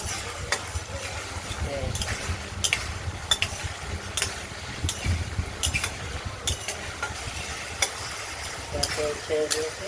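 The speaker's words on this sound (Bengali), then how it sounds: "আমরা মশলাটা কষিয়ে নিচ্ছি, এখনো পুরোপুরি কষানো হয়ে ওঠেনি।" Ground spice paste sizzling in hot oil for a paneer and potato curry, a steady frying hiss broken by regular clatters of a spoon stirring the pan, with a voice talking over it.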